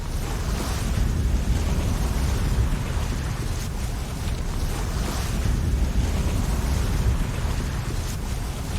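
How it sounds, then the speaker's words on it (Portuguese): Water roars down the spillway of the Itaipu hydroelectric dam in a loud, steady, broadband rush with no pauses and no voices. "A água que passa pelo vertedouro é um belo espetáculo"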